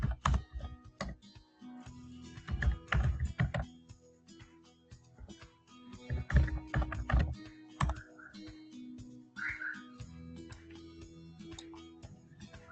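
Computer keystrokes tapped in irregular bursts while a command is entered at a Windows command prompt, close and fairly loud, with short pauses between runs of keys.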